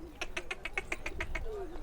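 A flock of birds at the Domiz refugee camp gives a rapid run of about nine evenly spaced chirping calls, fairly close, over low background noise.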